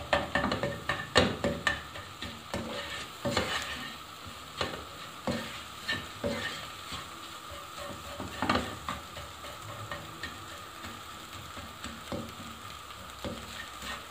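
Egg frying in a pan for chicken egg fried rice while a spatula breaks it into small pieces, a continuous crackling sizzle punctuated by repeated sharp scraping taps, no talking.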